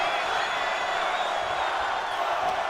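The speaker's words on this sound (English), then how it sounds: "This capacity crowd is beside themselves tonight." A capacity arena crowd roars steadily at a WWE 2K26 wrestling match in the video game, a dense, continuous wash of cheering and shouting at even loudness with no break.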